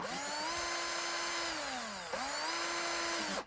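A cordless power tool runs after its rechargeable battery was replaced. It is a steady motor whine that dips in pitch as it slows, revs back up, then cuts off near the end.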